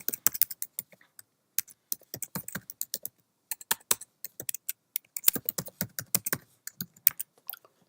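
Fingers type an email address and password on a Mac computer keyboard in quick, uneven bursts of crisp close key clicks with short pauses between, and no voices.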